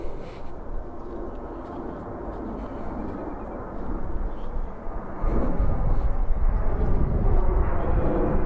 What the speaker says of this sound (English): Richfield can be a little noisy with the airplanes going over it.